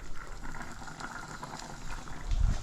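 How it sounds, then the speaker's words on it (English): Water boiling in a pot with wheat fillet, a continuous close bubbling and roiling that swells louder toward the end, with no voices. "I will add some more water and then I'll let it boil a little bit longer"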